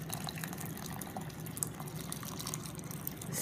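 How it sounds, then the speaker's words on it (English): Hot water pours into a jug holding mint and lemon slices, a soft steady trickling and filling sound, faint and close, with no talking. "Pour in hot water that will really enhance the flavor of your water"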